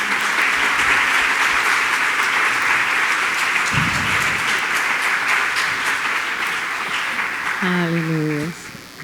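A church congregation claps loudly and continuously for about eight seconds during worship, with a voice briefly heard in the middle and a sustained musical note near the end as the applause fades.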